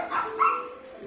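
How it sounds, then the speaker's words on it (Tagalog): A chow chow dog gives a couple of short, fairly faint barks and yips in quick succession, with no talking over them. "Ang tapang-tapang ng aso namin si Peso."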